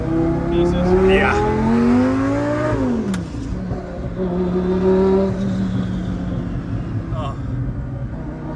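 A Lamborghini 5-liter V10 revving hard, the engine note climbing sharply then dropping before settling into a deep, loud burble at close range, with a brief voice exclamation over it.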